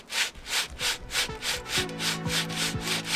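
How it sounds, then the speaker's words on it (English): A sanding block scrubbing engine bay paint in steady back-and-forth strokes, a rhythmic raspy swish about twice a second, close and fairly loud, with faint low knocks underneath. "Let's sand."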